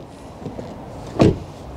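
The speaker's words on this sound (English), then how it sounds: "To unlock the car, just put your hand on the door handle." A quick mechanical clunk of an Xpeng G3 car door lock actuating via keyless entry, one short thud after a couple of faint clicks, close and otherwise quiet.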